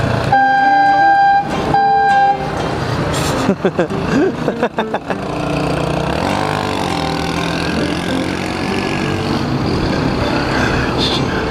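Loud vehicle horns blare near the start in long steady blasts, followed by a few short clattering knocks and then a rumbling traffic roar.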